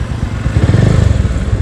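A Bajaj Pulsar motorcycle being ridden after a bent-valve repair, its engine thrumming in a loud, low, steady pulse up close with wind noise.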